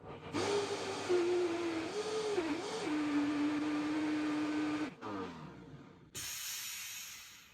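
A Vitamix blender whirs through raw vegan falafel ingredients with a loud, steady motor roar whose pitch wavers for about five seconds, then winds down, followed by a short burst of hiss.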